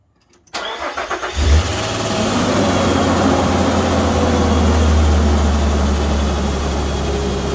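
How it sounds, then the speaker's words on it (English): A Nissan Frontier pickup engine after spark plug and coil replacement cranks briefly with a few rhythmic turns, catches, and settles into a steady, loud idle close by. "we're ready to give it a test start. Fire it up."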